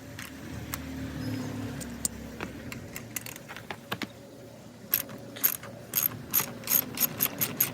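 A ratchet clicks in quick bursts while the rear wheel comes off a dirt bike, with metallic tool and part clatter between runs of sharp, close pawl ticks that grow louder toward the end.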